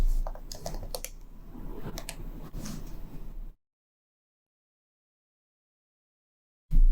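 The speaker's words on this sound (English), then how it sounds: "you can log out of the server by typing exit again." Rapid clicking of keys on a computer keyboard for a few seconds, then abrupt silence.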